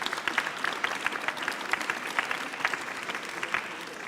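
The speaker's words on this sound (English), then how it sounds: "Please join me in a round of applause for this great panel we have." Sustained audience applause for a panel at a conference session on skills for recovery and labour market integration, with dense steady clapping filling the hall from start to finish.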